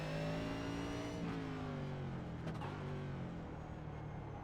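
A race car in the iRacing sim slows under engine braking, its loud, steady engine note winding down through falling revs for several seconds with no voices.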